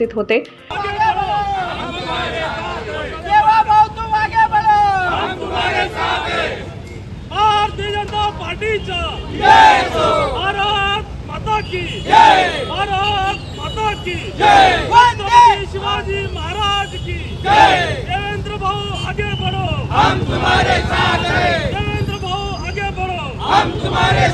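A crowd of BJP workers in Nandurbar celebrates with loud, continuous shouting and chanting voices rising and falling in repeated bursts over a dense background babble.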